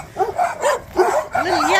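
Small yappy dogs bark in quick, high-pitched bursts at close range along a trail through a small settlement, with one drawn-out whine at the end.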